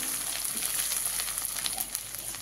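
Ground ginger, coriander, cumin and turmeric sizzle in hot oil in a pan, a steady, close frying hiss with faint crackles, heard alone with no voices.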